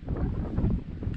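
Steady wind gusting across a microphone beside San Diego harbor on a warm day, a loud continuous low rumble with no voices.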